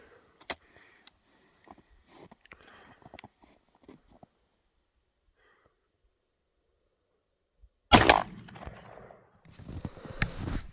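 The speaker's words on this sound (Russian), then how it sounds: "Правым стволом стреляю." Single 12-gauge shot from the right barrel of an IZh-43 double-barrel shotgun, a sharp loud blast after several seconds of near silence, followed by its ringing echo and some rustling and handling noise.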